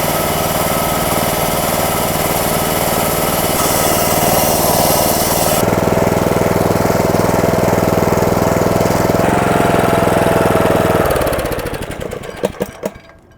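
A loud engine on a hitch-mounted core drill boring a hole drones steadily for about eleven seconds, its pitch shifting slightly, then winds down and sputters to a stop.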